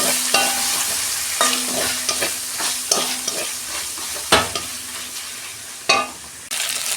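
Ginger garlic paste fries with onions in a pan, a continuous close sizzle broken by repeated scraping strokes of a spoon against the metal, several sharp stirs landing at irregular intervals.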